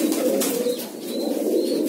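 Rooftop pigeons coo in a dense, low rolling murmur close by, with faint thin chirps drifting over it throughout.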